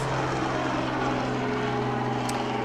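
Steady, loud droning engine roar from an aircraft, likely a helicopter passing overhead, with a constant low hum and broad rushing noise and no talking.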